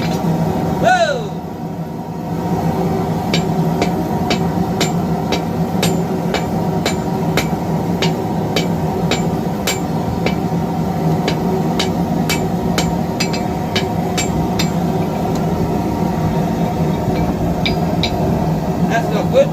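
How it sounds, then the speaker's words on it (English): Hot steel is hammered while a bowie knife is forged, sharp rhythmic blows ringing out in a steady series over a loud, constant machine drone, with a voice briefly heard early on. "Hammer, hammer, hammer, hammer."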